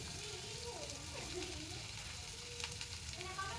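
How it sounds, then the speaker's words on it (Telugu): Pieces of bottle gourd fry in oil with a faint, even sizzle and a few small crackles and pops, heard alone and fairly quiet. "ఇప్పుడు కట్ చేసిన ఆనపకాయ ముక్కల్ని వేసుకుందాం."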